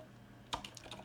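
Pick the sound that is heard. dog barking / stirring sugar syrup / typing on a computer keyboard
typing on a computer keyboard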